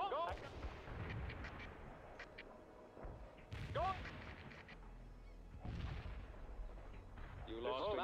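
Artillery fire in the World in Conflict: Soviet Assault video game, heavy distant booms and blasts scattered among honking and shouted in-game voices, fairly faint overall.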